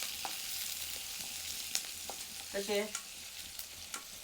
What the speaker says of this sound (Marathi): हे आपण बारीक मिरच्या घेतल्या चिरून ह्या मिरच्या टाकून घेऊत ते थोडंसं असं हलवून घेऊत